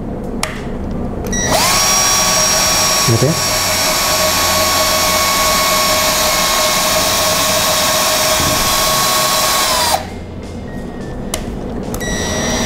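A cordless drill with a larger drill bit whines steadily for about eight seconds at a loud, close level, starting and stopping abruptly, with a brief spoken remark near the start.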